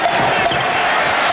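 Basketball arena crowd at a 1995 Knicks at Pacers playoff game cheering and roaring, a dense, loud wall of voices over a brief moment, with a commentator talking over it.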